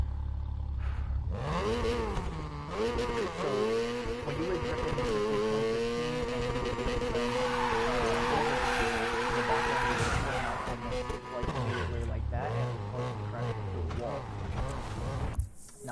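A car drifting in a racing video game, the engine droning and revving while the tires squeal in long sustained slides, with a voice talking over much of it.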